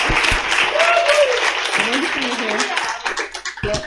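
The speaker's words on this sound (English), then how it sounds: "So a really big round of applause." An audience claps in a loud, steady burst of applause while a voice speaks over it.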